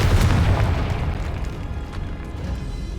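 A Confringo fire spell explosion in the video game Hogwarts Legacy, a loud, deep, rumbling boom that swells at once and decays slowly over several seconds, heavy in the low end.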